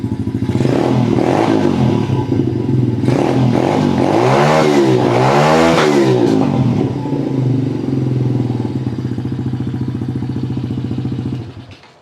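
A small mini dirt bike engine, started with its key-operated self-start, revs loudly and close by for about eleven seconds, its buzzing drone rising and falling through several throttle blips before cutting off at the end.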